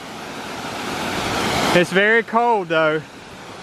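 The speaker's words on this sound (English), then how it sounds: "Beautiful waterfall." Waterfall at Cheaha High Falls, Alabama, roaring as a steady broadband rush of falling water that fills the background, with a person speaking briefly over it near the end.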